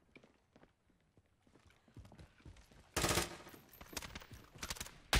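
Gunfire spray in Call of Duty Modern Warfare, starting as scattered quiet pops and then breaking into a loud rapid burst of automatic shots with a few more sharp bursts following.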